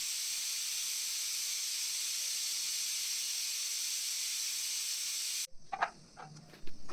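Pressure cooker releasing steam in a long, steady, high hiss that cuts off abruptly near the end, followed by a few faint kitchen knocks.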